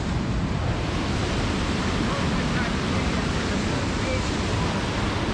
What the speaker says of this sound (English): Yeah, the river's raging loud here